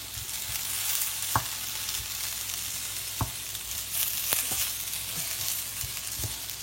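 Potatoes frying on high heat hiss steadily and close by, broken by a few sharp taps and scrapes as the pieces are turned, with no one speaking.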